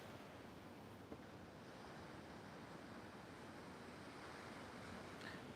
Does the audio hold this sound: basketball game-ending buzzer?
no